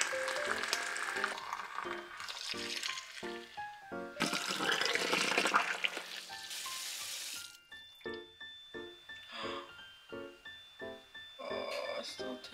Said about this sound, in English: We're gonna fill this up with hot water.